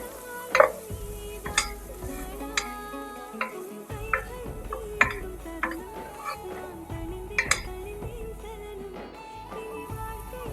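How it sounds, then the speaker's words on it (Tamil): Spice masala sautés in oil in a pan, a steady sizzle broken by repeated clinks and scrapes of a spoon stirring against the metal, close and fairly loud. "இதில் சேர்த்து ஒரு நிமிஷம் வதக்கி விடலாம்"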